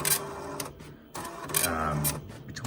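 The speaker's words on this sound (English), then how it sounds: "It's just a slow printer, which is fine." A slow printer hooked to a Tandy 1000HX computer prints in bursts of buzzing mechanical chatter, pausing briefly between rows, close and fairly quiet with no talking.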